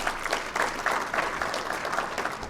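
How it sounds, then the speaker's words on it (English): Audience at an alumni association homecoming awards luncheon applauding: steady, lively clapping from a room of people, continuous and even throughout. "applause for her, yes."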